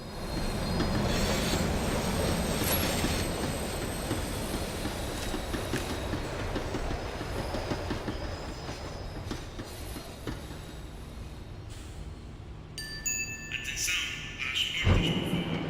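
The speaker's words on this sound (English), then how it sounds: "The tram was slowing down, and I'd only just gotten on board." A tram in the Max Payne 3 video game rumbles and clacks along its rails as it slows down, its wheels squealing steadily. A sharp metallic screech and a thud come near the end.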